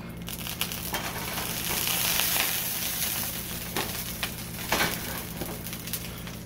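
Olive oil sizzles steadily in a hot pan, just under a quarter cup heating before beef short ribs go in for braising, a constant close crackling hiss with scattered brighter pops and spatters throughout.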